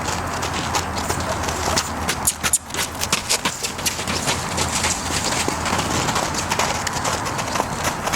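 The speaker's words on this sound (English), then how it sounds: "Few steps of canter without panic." A horse canters in a training session, its hoofbeats coming as a quick, rhythmic run of fairly close thuds over steady outdoor ambience.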